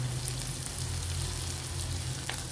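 Shallots, onion and ginger sauté with salt in hot oil, making a continuous near sizzle with a low steady hum beneath it and no voices.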